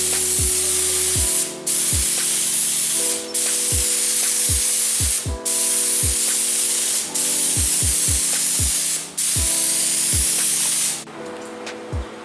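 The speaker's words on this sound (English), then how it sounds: "So we're going to spray it now." Automotive touch-up paint sprayed from a can onto a car bumper in a steady, close hiss broken into long passes, with the can's mixing ball rattling in quick bursts between them and music playing underneath.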